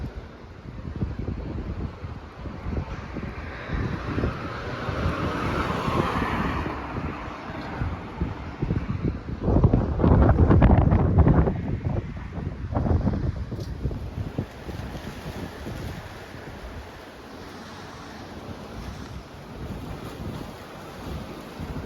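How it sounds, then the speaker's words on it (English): Strong wind in Sidari, Corfu, roars and buffets against the microphone in a steady rumble, swelling into a louder gust midway before easing back. "That's to show you how windy it is."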